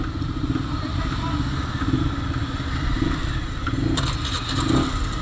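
A group of motorcycles sits idling at the start of an Independence Day intercity ride from Guwahati, Assam. Their engines make a steady, rumbling drone, with some clatter and voices mixed in.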